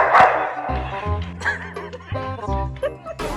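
On a road, a dog barks in yips at someone playing an instrument, mixed with tonal playing and bursts of laughter in a loud, busy jumble.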